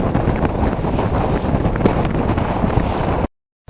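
Strong ocean wind roaring steadily across the microphone aboard a sailboat in big seas at about 25 knots, loud and unbroken before cutting off abruptly near the end.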